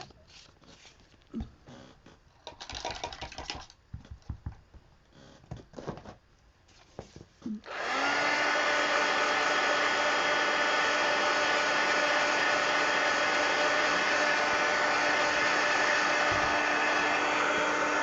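A hair dryer drying paint on an adult coloring book page switches on after some faint handling and tapping sounds, then runs with a loud, steady whine and airy rush that continues to the end.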